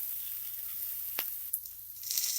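Tomato frying in a pan for chicken keema curry, a soft steady hiss with a single scrape and faint stirring that grows slightly louder at the end.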